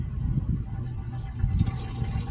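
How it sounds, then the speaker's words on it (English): Water running into plastic bottles in a tomato garden bed, a soft continuous gurgling fill with low bubbling pulses, faint and close, heard alone without talk. "the bottles are also getting water in them"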